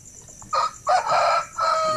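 A Shamo and Basilan rooster crows in several loud, close bursts separated by short gaps, with faint farmyard ambience between calls.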